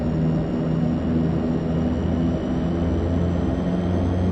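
A DHC-6 Twin Otter taxis at night in Flight Simulator X, its twin turboprop engines giving a steady, loud droning hum with a constant high whine and no change in pitch.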